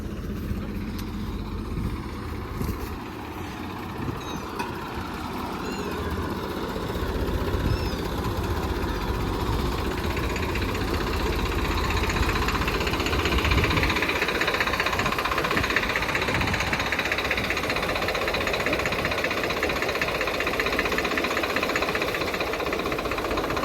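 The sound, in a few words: old 1995 Holland 5620 tractor engine running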